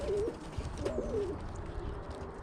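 Pigeons coo in a loft, two or three soft rolling coos close by over a low background rumble.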